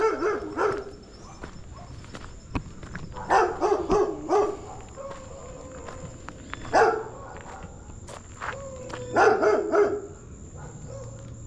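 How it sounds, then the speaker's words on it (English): A dog barks outdoors on a rural walk by a brick-making yard near Medellín, Colombia, in several short clustered bursts of close, loud barks with footsteps and quiet gaps between them. "She came to bark at me and Negro was behind me."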